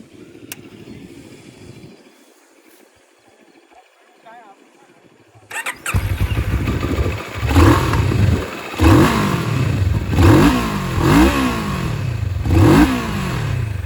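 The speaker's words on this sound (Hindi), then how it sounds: "अभी मैं आपको सुना देता हूँ इसका एग्जॉस्ट नोट" A Moto Morini Seiemmezzo 6½ retro scrambler motorcycle sits quiet, then its engine fires up and is blipped through a series of loud, gruff revs that rise and fall close by.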